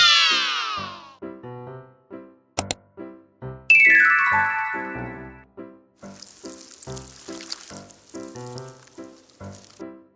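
A bicycle bell rings out with bright, clear metallic tones that ring on and fade, heard close over a steady, repeating musical backing, with no speech.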